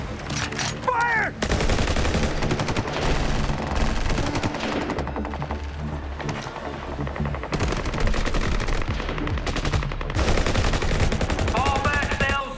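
Sustained machine-gun fire from a movie battle scene against Megalodons, loud, rapid bursts of automatic gunfire with overlapping shots, continuous for the whole stretch with brief lulls and shouted voices mixed in.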